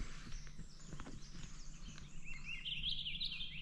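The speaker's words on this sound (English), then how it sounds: "Oh, I love the sound of the birds." Birds sing outdoors on a homestead during berry season, with high chirps and tweets rising over a soft background near the end; no one speaks over them.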